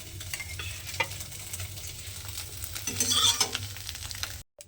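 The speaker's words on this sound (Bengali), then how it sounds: "দেখুন এইভাবে কিন্তু ডিমটা ভেজে নিতে হবে" Scrambled egg bhujia crackles steadily in a pan as a spatula stirs it with a few scraping strokes. The frying is close and fairly quiet, and no one speaks.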